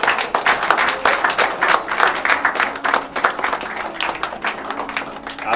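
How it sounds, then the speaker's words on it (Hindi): A crowd at a prayer gathering applauds as a ceremonial lamp is lit, with dense, continuous clapping from many hands that rises and falls for several seconds. "ताली बजा के स्वागत कर सकते हैं"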